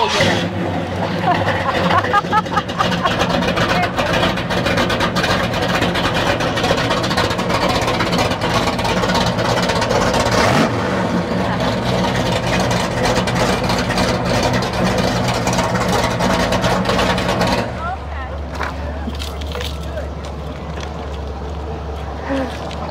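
A large classic car engine at an outdoor car show rumbles steadily and loudly close by, a deep idling drone with rattling texture, easing to a lower, quieter idle near the end.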